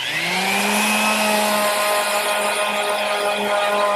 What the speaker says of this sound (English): I'm just going to use my standard palm sander, and that'll remove any of the marks and even up all the joinery so that it'll be perfect.